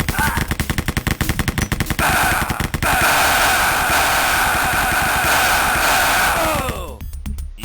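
Rapid automatic gunfire from an MP40 submachine gun in the video game Wolfenstein, loud and sustained bursts of close shots over a busy game soundscape, tapering off at the end.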